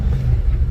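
Jeep YJ Wrangler with a 4.6 stroker engine, 3.73 gears and original 5-speed, driving through mountains: a low, steady engine drone close and loud, with some rumble and wind buffeting.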